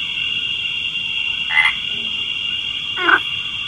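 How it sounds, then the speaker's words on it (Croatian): Frogs croak in two short, close calls about a second and a half apart over a constant high-pitched insect-like drone. "A, žabice. Baš su lepe."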